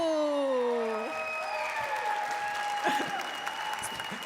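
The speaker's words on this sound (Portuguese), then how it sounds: "Uma salva de palmas, por favor." Audience applause in a podcast studio as guests are welcomed, fairly faint clapping under sustained tones and shifting background sound throughout.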